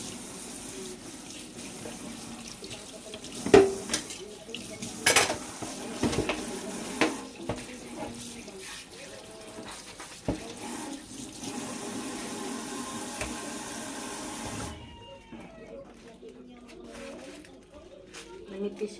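Running tap water pours steadily into a kitchen sink while raw meat is rinsed under it for a home-cooked meal, with occasional splashes and clinks and someone talking over the flow before it stops near the end.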